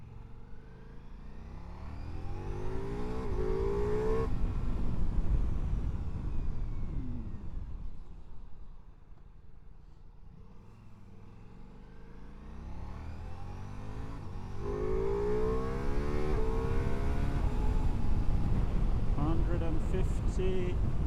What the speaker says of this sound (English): 50 kilometers an hour. Sounds like this. Engine sound.